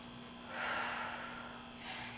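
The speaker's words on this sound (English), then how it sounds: "take a deep breath in, and stand up and let your breath out" Forceful exhale of a lifter standing up out of a deadlift, a single broad breathy rush that swells and then trails off, close and fairly quiet over a steady low hum, with no talking.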